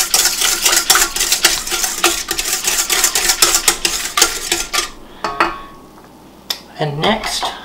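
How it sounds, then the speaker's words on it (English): Sugar being whisked into warm milk and water in a bowl, a fast run of clinking, scraping strokes for about five seconds, then a pause and a few sparser taps; no talking. "And then I'm going to add the sugar. And I'm going to whisk that"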